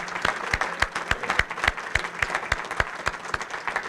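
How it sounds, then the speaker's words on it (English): Audience applauds the actors at a county bicentennial celebration kick-off event, sustained clapping across the room with a few sharp, close individual claps standing out. "certainly are deserving of another round of applause for their work this evening"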